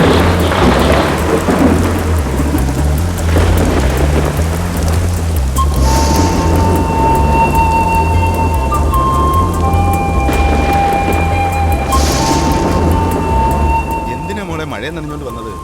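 Heavy rain pours steadily in a film scene, with rumbling thunder under it throughout and a few higher electronic tones drifting over the downpour, which eases slightly near the end.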